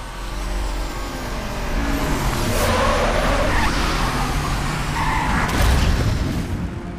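Engine roar and tyre noise of the Batmobile-style car in the Batman Arkham Asylum game run continuously, loud and close, with rumbling low end, skidding swells and a couple of impact booms.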